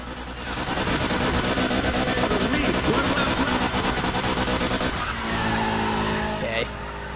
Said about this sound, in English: there's only one straight where I have to deal with the rev limiter